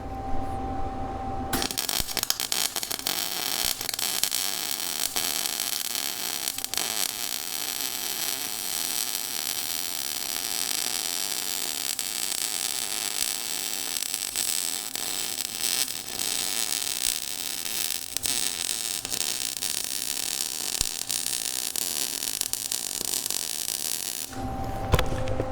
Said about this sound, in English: I'm gonna go ahead and weld it here, and then I'll weld the back side